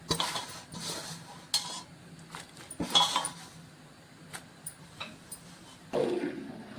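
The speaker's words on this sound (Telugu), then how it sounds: "ఇట్లా కలుపుకోవాలి మంచిగా" Tadkala pasham, a sweet mixture, being stirred in a pan with a utensil, producing intermittent scraping and clinking bursts of metal against cookware, moderately close with quieter gaps between strokes.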